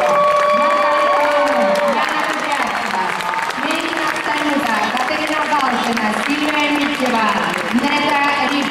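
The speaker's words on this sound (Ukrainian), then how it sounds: "Ваші оплески Данелі Зангінова, Аліна Максимова." Loud crowd applause and cheering with shouts rising above the clapping at the Rhythmic Gymnastics World Championships opening ceremony, and a voice carrying over the noise.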